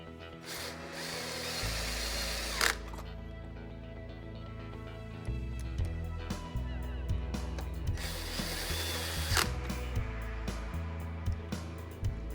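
A power tool drives bolts while a gearbox is fastened together on an MGI Navigator quad gyro, giving a close, continuous whirring whine whose pitch rises and falls with short bumps of load.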